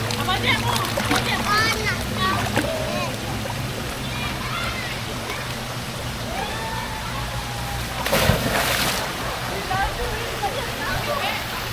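A child swims and splashes in a pool, water sloshing and splattering steadily with a sharper burst near the end, while children's voices and other chatter carry on over it.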